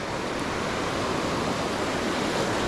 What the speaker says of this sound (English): You can see where these waves are breaking.